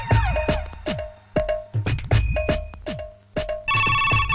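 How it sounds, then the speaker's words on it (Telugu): A telephone rings at midnight with a rapid, loud electronic ringtone in repeated bursts and short gaps, ending in a steadier tone. "అమ్మో, అర్ధరాత్రి ఫోన్ ఏంట్రా బాబు"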